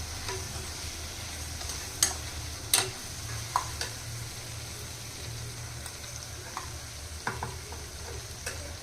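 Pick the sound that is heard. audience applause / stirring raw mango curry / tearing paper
stirring raw mango curry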